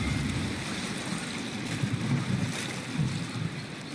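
Steady rushing water ambience from the Long River on the Storm Coast in Dragon Age: Inquisition, a continuous broadband wash with a low rumble, gusty wind-like texture and no talking.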